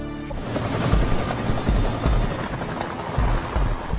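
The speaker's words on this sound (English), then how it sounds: "Miami-Dade police helicopters find the wreckage of ValuJet Flight 592 in swampland" A police helicopter flies over swampland, its rotor thumping steadily and loudly throughout, close and unbroken with no talking.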